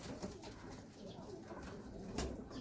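Imamdeen pigeons coo softly and faintly against a low background hum, with a slightly louder coo near the end.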